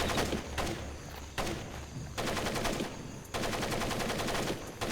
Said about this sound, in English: I've got to listen to the constant gunfire